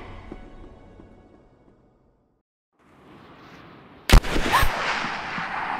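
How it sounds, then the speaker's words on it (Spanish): After a quiet stretch, a single sharp gunshot in Rise of the Tomb Raider cracks out loudly, followed by a noisy rumbling tail. "Sonido de un disparo."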